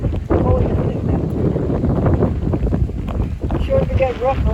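Strong hurricane wind buffets the microphone beside a bayou near the bay, a constant loud roaring rush with gusting swells. Faint voices sit under the noise.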